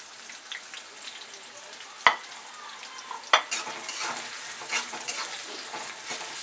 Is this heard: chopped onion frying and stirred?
yes